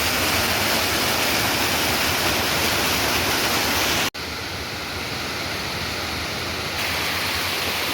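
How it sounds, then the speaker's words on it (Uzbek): Roaring rush of the Paltau waterfall in a gorge, about 35 to 40 metres high, a steady loud wash of falling water with one brief cut midway and no voices. "Mana Sharsharani ham topdik."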